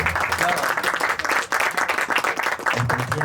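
A crowd at a live poetry open mic in Jaipur breaks into loud, continuous applause, many hands clapping together close by while a voice talks over it.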